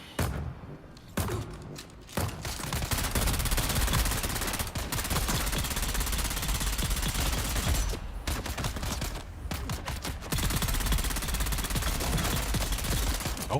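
Sustained bursts of automatic gunfire in the video game Dune, dense rapid volleys with brief pauses and thumps, loud and continuous through most of the stretch.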